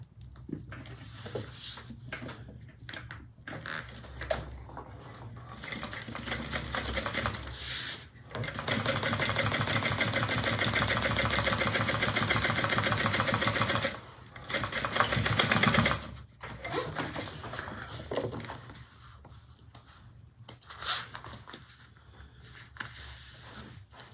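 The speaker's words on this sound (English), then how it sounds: "we're going to top stitch right across the bottom of the trim, catching both sides" A sewing machine top-stitches across the bottom of a bag's trim in bursts of rapid, even stitching, with one long steady run in the middle and short starts and stops around it.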